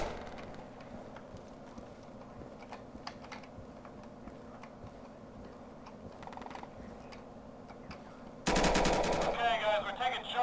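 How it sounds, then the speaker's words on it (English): Handgun fire in the tactical shooter Insurgency on the Embassy map: scattered sharp pops and clicks over a low ambient bed, then a dense, louder burst of shooting and noise near the end. "Go ahead and press towards the gunfire."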